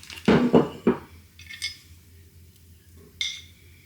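A butter dish handled in a kitchen while making Instant Pot mushy peas with green split peas: a few loud ceramic clunks and clinks close by in the first second, then quieter scattered knocks and a final clink.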